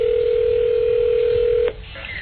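A telephone dial tone hums steadily and clearly for over a second, then cuts off at a click, leaving quieter line noise.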